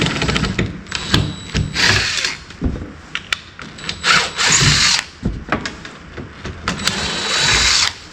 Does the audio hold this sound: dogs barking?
no